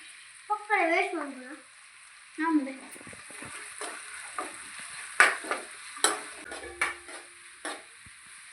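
Chilli chicken sizzles and fries in a pan in a home kitchen, a steady crackle with scattered pops and stirring clatter, with voices talking over the start.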